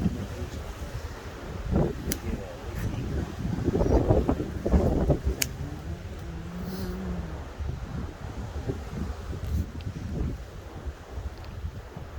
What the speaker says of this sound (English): So the wind's calmed down a little bit.